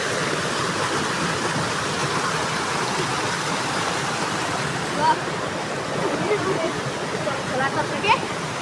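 A mountain stream rushes steadily nearby, a loud and continuous broadband roar of flowing water with a few faint chirps rising above it toward the end.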